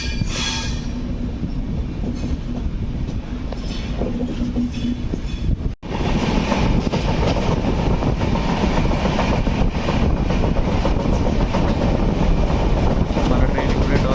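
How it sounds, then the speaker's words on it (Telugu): Visakhapatnam to Kazipet express train running at speed, a dense continuous roar of wheels and rushing wind that briefly dips near the middle and then returns louder, with rail clatter and no talk. "మన ట్రైన్ ఇప్పుడే డోర్నకల్ దాటిన తర్వాత అయితే స్పీడ్ అందుకుంది."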